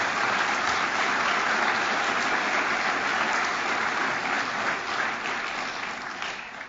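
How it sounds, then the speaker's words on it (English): Warm applause from an awards ceremony crowd in Kansas City greeting two army sergeants, dense and sustained, slowly tapering toward the end. "Give them a round of applause."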